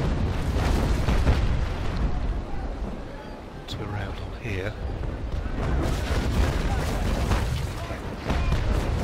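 Cannons on sailing brigs fire in Naval Action Legends, a run of deep booms and rumbling blasts over a constant sea and wind bed, while someone talks over the action.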